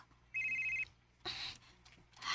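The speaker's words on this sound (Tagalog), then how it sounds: "Si Anton ang nanawag." A telephone rings for an incoming call, a short electronic bell burst heard once at moderate distance, followed by quieter rustling and shuffling noises.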